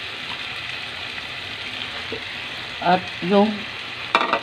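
Vegetables (string beans, okra and chili with dissolved coconut milk mix) sizzle steadily in a frying pan, with a few louder bursts of stirring and scraping near the end and a brief bit of speech.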